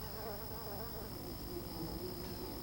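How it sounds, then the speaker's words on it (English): Bees buzz steadily at a hive entrance inside a fig tree, a faint, continuous droning hum of many insects close by, with no talking. "A guard at the entrance checks every bee entering the hive."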